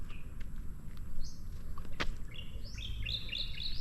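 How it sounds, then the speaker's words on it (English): Small birds chirp and trill in quick high bursts near quiet basketball courts in a residential area of Aklan, Philippines, with a faint low background hum and one sharp tap partway through. "All you can hear is the birds."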